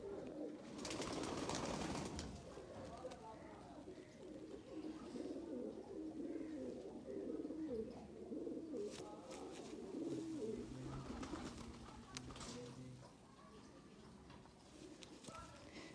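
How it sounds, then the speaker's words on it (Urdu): Domestic pigeons at a Pakistani pigeon-keeper's loft coo continuously in low, rolling phrases close by, with chirps from other birds scattered through and people talking softly in the background. "اس ٹائم یہ میرا فیوریٹ کبوتر ہے"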